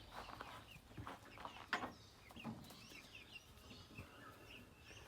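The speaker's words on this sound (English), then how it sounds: "Hello, chickies." Backyard chickens, grown birds recently moved outdoors, cluck and chatter in short, irregular bursts at moderate distance, with a soft flap of wings partway through.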